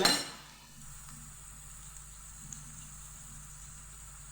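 Onion, garlic and chicken frying together in a pan give off a soft, steady sizzle that hisses on without a break, with no voices present.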